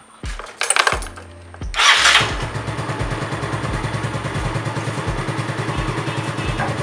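A Yamaha Mio scooter with its carburetor being tuned fires up after a couple of cranking attempts, then settles into a close, steady putting idle with regular pulses.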